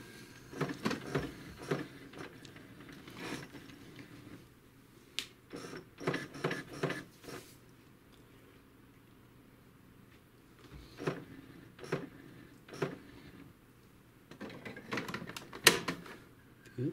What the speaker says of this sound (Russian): Включаю принтер.